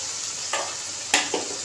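Salt, turmeric, coriander and chilli powder sizzle in a pan for baingan masala while a spoon scrapes through them, a steady frying hiss broken by two or three short stirring scrapes, with no talk.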